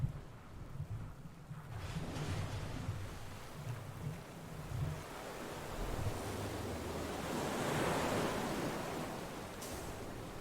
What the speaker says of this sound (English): Water's become more violent, it seems.